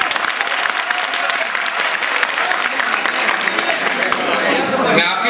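Audience at a mushaira poetry recital in Bhiwandi bursts into sustained, dense applause that fills the whole stretch, loud and close, with a few voices mixed in before it thins out at the very end.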